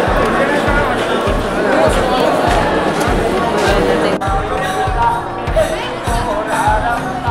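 Morning crowd of pilgrims at the Tirupati Balaji temple, a steady babble of many voices with a nearby voice talking over it and a regular low thumping pulse running underneath.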